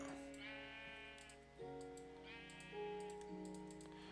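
Sheep in a video game give repeated wavering bleats over a faint steady background, with soft keyboard-like clicks ticking between the calls.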